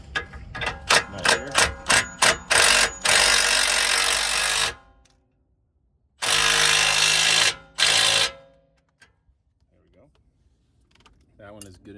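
Power tool tightening a nut on a billet vertical arm during a Ford Explorer ST suspension install: a stuttering series of sharp impact bursts, then long sustained loud whirring runs, with quiet clicks and handling noises between.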